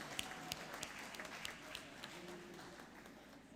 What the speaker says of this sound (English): Can we give the principal another round hand of applause?